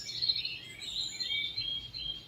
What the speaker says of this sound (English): reduce that sound of the birds